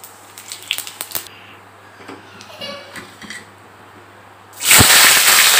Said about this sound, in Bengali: তো প্রথমে কড়াইতে আমি একটু জিরে ফোড়ন দিয়ে দেবো।